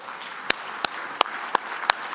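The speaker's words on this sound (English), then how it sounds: "Let's give them a big round of applause." Applause at a political summit, heard as a few sparse, distinct claps spaced about a third of a second apart over a quiet hall murmur.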